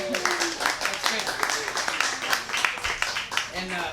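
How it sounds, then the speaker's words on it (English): Applause from an audience in a cafe at a Project Censored lecture in Petaluma, California: a dense, steady patter of many hands clapping for about four seconds, with murmuring voices mixed in. "Please, yes, give a round of applause to everybody here."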